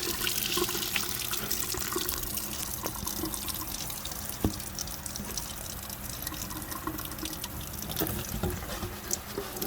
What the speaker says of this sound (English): We're going to give this a little rinse off.